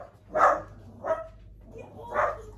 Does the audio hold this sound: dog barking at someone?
yes